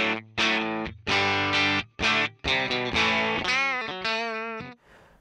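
An electric guitar through a Yamaha THR10C practice amp plays a short phrase of distorted chords and single notes. Each attack is picked hard, and the last note fades into a brief decay.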